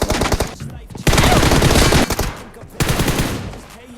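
Close, loud automatic-rifle bursts from the PUBG Mobile battle game rattle in three long volleys separated by brief pauses, each a rapid string of sharp shots.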